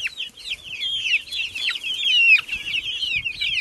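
Two-month-old free-range chickens clucking and peeping steadily while being fed on a farm, a busy overlapping chorus of high chirps close by with no talk.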